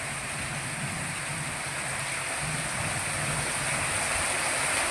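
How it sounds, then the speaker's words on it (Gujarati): Heavy rain pours steadily over a flooded courtyard, a dense continuous hiss of water falling onto standing water, loud and close throughout with no voices. "જુઓ પાણી બહુ હાલતું નથી અને વરસાદ બહુ આવે છે"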